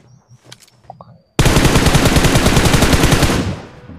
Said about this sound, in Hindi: तो भाई यहाँ पर सामने से फायरिंग हो रही थी